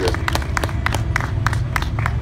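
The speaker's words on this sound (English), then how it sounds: "Give him a round of applause, folks." An outdoor crowd at a hypnotist show in a parking lot claps: dense, steady applause with scattered sharp individual claps, moderately loud and continuous throughout, with a few voices mixed in.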